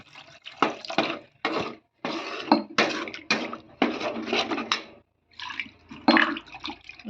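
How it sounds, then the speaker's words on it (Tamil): Water poured in several short splashing bursts with brief pauses into a pan of meal maker (soy chunk) gravy, close and clear, with faint clinks of kitchenware and no speech. "இதுக்கு எவ்வளோ தண்ணி தேவையோ அந்த தண்ணி ஊற்றிக்கிறோம்"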